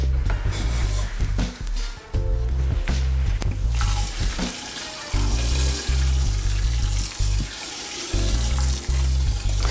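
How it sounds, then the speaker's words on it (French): Crushed malt grain is poured into hot mash water while brewing beer, making a continuous loud rushing, hissing pour with a heavy low rumble and brief dips in between. "on va verser notre grain qui est déjà concassé"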